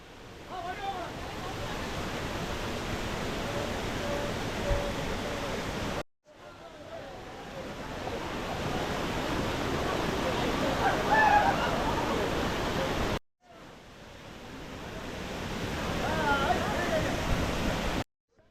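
Chilanthiyar waterfall in Idukki gives a steady, broad rushing roar that runs through three cut-together stretches, with faint voices at times.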